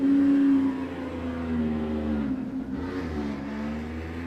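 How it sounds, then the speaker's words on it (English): A 750cc modified motorcycle with a pushrod engine running on gas revs at a dry lake race. A strong, steady engine tone eases down and falls back, then holds a lower drone. "This is a 750cc modified motorcycle, sporting a pushrod engine on gas."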